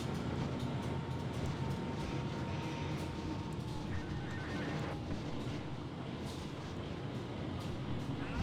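A train in Trainz Simulator rolls into a station with a continuous low rumble and steady rail noise, faint wheel squeals and clicks rising now and then over the drone.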